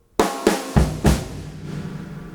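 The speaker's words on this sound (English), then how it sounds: "the fill is starting out with two rimshot accents, two 16th notes" A short drum fill: four sharp, loud hits in quick succession, the first two crisp rimshot cracks, the later ones joined by deep bass drum thumps, then ringing decay.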